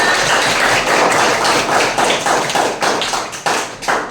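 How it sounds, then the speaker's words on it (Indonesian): Students at a vocational high school clap their hands together, loud and close, with fast and fairly steady claps running throughout. "tepuk tangan dulu anak-anak"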